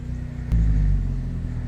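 A Toyota Corolla's 1.8-litre 2ZZ-GE engine, fresh from an oil change, turns over and settles into a close, steady low rumble at idle.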